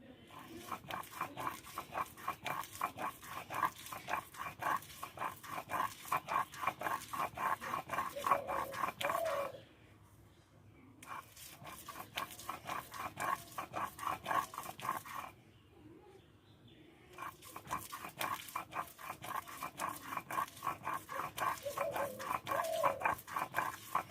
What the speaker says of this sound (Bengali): এই অর্ধেকটাও কিন্তু একইভাবে আমি বেটে নেবো